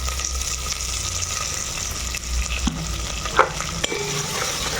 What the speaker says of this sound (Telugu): ఇది బాగా వేపాలి లైట్ గోల్డ్ కలర్ వచ్చేంత వరకు ఉల్లిపాయలు వేపాలి